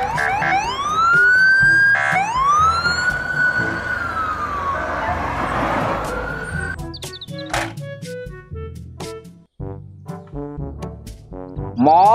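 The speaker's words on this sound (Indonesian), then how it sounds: "Mobil polisi." A police car siren wails loudly and continuously, sweeping up and down in long rising and falling tones before switching to a faster rapid yelp pattern with some clattering in the later part.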